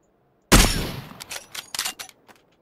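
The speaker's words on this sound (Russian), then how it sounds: "На той стороне стреляют." A loud gunshot in the video game PlayerUnknown's Battlegrounds, one heavy blast with a long decaying echo, then a quick run of sharper distant shots and clatter, with no voices.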